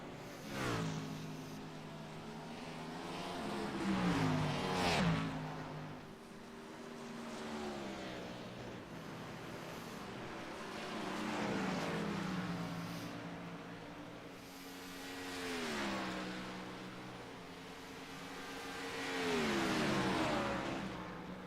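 Stock cars race at Watkins Glen in a racing video game, engines rising and falling in repeated revving sweeps as cars pass and shift, a continuous moderate roar with no voices.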